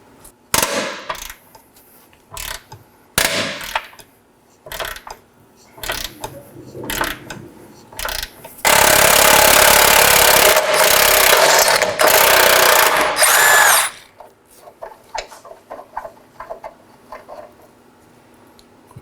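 An 18mm ratchet wrench works the torque mount bolt on the subframe of a 2013-2019 Nissan Sentra 1.8L L4. Short bursts of clicking alternate with pauses, and a loud, sustained, rough mechanical stretch sits in the middle.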